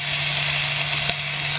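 Food sizzles loudly and steadily in a pan while being stirred, with a couple of brief scraping strokes and no one speaking.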